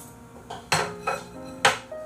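A large metal cooking pot is handled with several sharp clanks and knocks, irregularly spaced and close by, with no talking.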